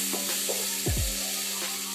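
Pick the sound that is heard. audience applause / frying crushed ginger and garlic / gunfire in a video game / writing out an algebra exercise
frying crushed ginger and garlic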